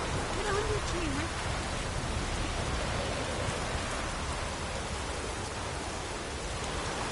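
Steady rain falls in the fantasy role-playing game Witcher 3, a dense, even hiss of drops with a faint distant rumble underneath.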